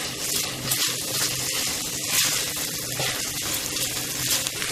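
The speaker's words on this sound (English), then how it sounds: "And now I'm just adding my macaroni in here. And I'm just gonna cook these onions a little bit." Onions and macaroni cook in a pot with a steady, close sizzle, wet bubbling and a few scraping stirs, all without speech.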